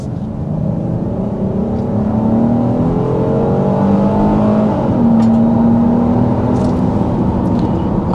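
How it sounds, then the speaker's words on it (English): A 2025 Kia Carnival SX Prestige minivan's V6 engine roars under hard acceleration from about 55 to past 60 mph, its pitch climbing steadily across several gear stretches with a constant loud drone throughout. "let's go ahead and dive in by getting a hard acceleration"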